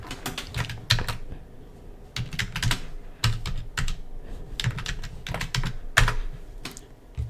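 Rapid typing on a computer keyboard, close and steady, with bursts of clacking keystrokes separated by short pauses and a low background hum throughout.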